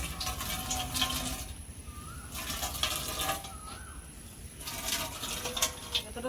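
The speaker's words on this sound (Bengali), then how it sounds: "জলটা ভালো করে নিংড়ে নেবো" Water is wrung out of a cloth bundle of chhena for rasmalai, giving a continuous close wet trickling and dripping with splashy surges at the start and end.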